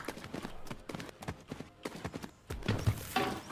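Hoofbeats of a horse galloping in the horse-riding video game The Tales of Rein Ravine come in a quick repeating rhythm at moderate loudness. The pounding grows heavier and louder toward the end.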